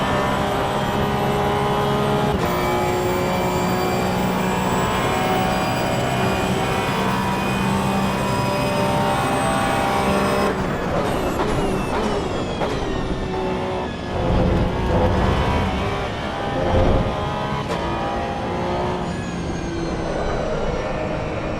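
Porsche race car engine in Assetto Corsa EVO at Spa during a 24-hour race, a steady loud drone with shifting harmonics as revs rise and fall, alone without talk.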